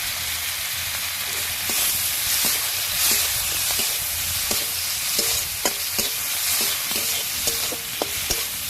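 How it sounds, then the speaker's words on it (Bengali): Spices fry in a pan for paneer butter masala, making a constant sizzling hiss punctuated by repeated sharp scrapes and taps of the stirring spoon, growing more frequent toward the end. "এগুলো একটু ভালো করে একটু ভেজে ভেজে নেব।"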